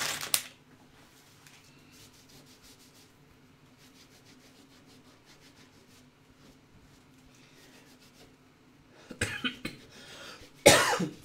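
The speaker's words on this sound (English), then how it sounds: "I have a lingering cough" A cough right at the start, then quiet scraping and rubbing, and a couple more loud coughs near the end.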